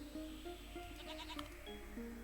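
A goat in the Equilinox video game bleats in a short series of wavering, tonal cries, faint and fairly close, with no talking.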